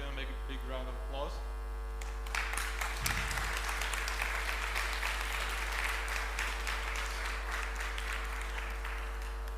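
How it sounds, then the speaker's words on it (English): An audience at a technology and design conference breaks into applause after a talk, a brief voice followed by steady, full clapping over a constant low mains hum. "Let's give him a big round of applause."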